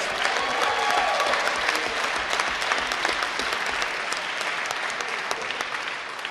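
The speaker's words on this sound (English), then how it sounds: "give a round of applause for Chris Southard and the WVU TV Productions for web streaming this debate" Student government debate audience applauding the university TV productions web streaming crew, a sustained even roar of many hands clapping, close and loud, easing slightly at the end.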